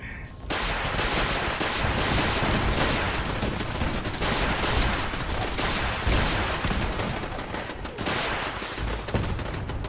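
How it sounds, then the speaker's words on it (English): Heavy machine gun, missile and heavy laser turrets firing nonstop while defending a settlement in a video game, a loud dense barrage of rapid shots and blasts that runs the whole time. "a heavy machine gun turret, a missile turret, and a heavy laser turret"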